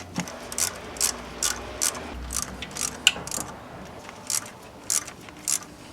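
Camshaft chain tensioner bolts on a VW/Audi engine are tightened with a ratchet. Repeated short bursts of clicking come in an uneven rhythm, close and crisp against a quiet background.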